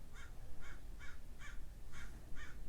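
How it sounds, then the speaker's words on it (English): A crow caws right outside a window, six evenly spaced harsh calls at a steady rhythm, fairly faint against quiet room noise. "there's a bird like right outside my window."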